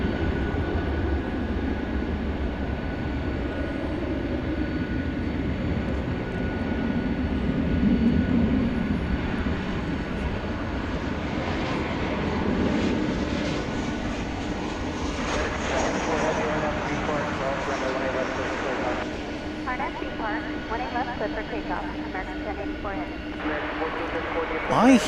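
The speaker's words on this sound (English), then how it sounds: "This looks like American Flight 972 going to Austin. Is it going to take off, though?" An American Airlines jet airliner rolls and takes off at night from DFW Airport, its engine roar rising and swelling in the distance while someone talks over it.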